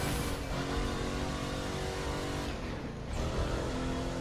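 Muscle car driving in The Crew 2, with a steady sustained engine roar at a constant pitch, a brief dip and softening near the three-second mark before the roar resumes, no talk.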